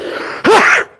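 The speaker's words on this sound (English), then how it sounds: "I'm going to sneeze." A single loud, close sneeze bursting out after a short breathy intake, ending abruptly.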